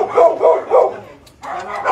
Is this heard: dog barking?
yes